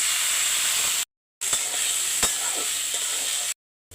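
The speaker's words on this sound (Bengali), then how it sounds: "প্রথমে আমি পোলার চালটা ভেজে নেব।" Polao rice fries dry in a pan, making a soft continuous sizzle and hiss with a few sharp clicks from stirring, broken by two brief silent gaps, with no talking.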